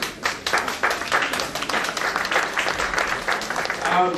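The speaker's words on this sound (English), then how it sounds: "You should really, really applaud them for really caring about the community." Sustained applause from a crowd at a town hall meeting, a steady wash of many hands clapping at once, fairly close and even throughout.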